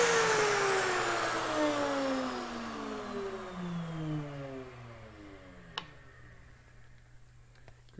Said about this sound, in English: dovetail slots milled from the back of the box